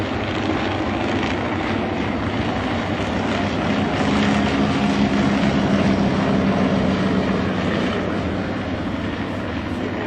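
World War I Fokker Dr.I triplane and Fokker D.VII aircraft fly together in formation, their propeller engines making a loud, continuous droning roar that holds steady for the whole stretch, with no talking.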